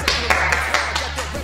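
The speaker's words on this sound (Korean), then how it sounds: "박수." Applause from people at a taekwondo belt promotion test, a short burst of brisk, fairly close clapping with a few sharper claps standing out.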